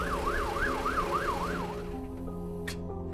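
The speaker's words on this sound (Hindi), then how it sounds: "एक रात जब अंशिका और स्नेहा हाईवे पर खड़े थे, तब उनके सामने पुलिस की गाड़ी आकर रुकी," A police car siren wails in a fast rising-and-falling yelp over traffic noise on a highway, then breaks off, leaving the rumble of an idling vehicle and a short click.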